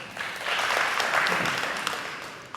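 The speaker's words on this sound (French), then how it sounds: "Applaudissez pour eux, s'il vous plaît" A studio audience at a French-language quiz show applauds the contestants, a full burst of many hands that swells, holds and then eases slightly.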